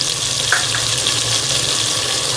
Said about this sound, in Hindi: चिकन हमारा फ्राई होते हैं, कलर चिकन में जो है वो चेंज कर दिया।